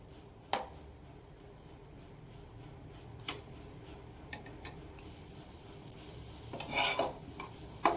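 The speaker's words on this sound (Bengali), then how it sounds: "এবারে ক্রমাগত নাড়তে নাড়তে এটি একটি ডোয়ের মতো তৈরি করে নিতে হবে।" A spoon works semolina and palm pulp into a dough in a pan, giving faint, scattered scraping taps over a low background, then a denser burst of scraping and clinking toward the end, with no speech.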